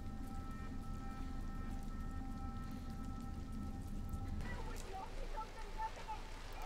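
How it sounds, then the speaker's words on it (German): Steady rain falls in the horror adventure game The Inner Friend, a constant soft hiss that grows denser and more patterned near the end, with a faint tonal hum running underneath. "Regen ist für mich nie gruselig. Regen ist immer gemütlich."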